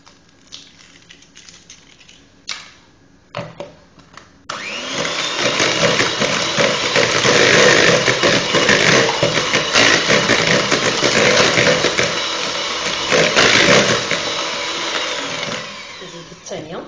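An electric mixer beats butter and eggs for a candied-fruit cake, starting abruptly after some quiet kitchen sounds and then whirring loudly and steadily for about twelve seconds, close by.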